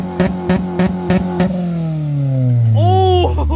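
A tuned Acura RSX Type S engine blips several sharp, loud revs, then sweeps up into a long sustained rev that climbs and peaks near the end, close and aggressive.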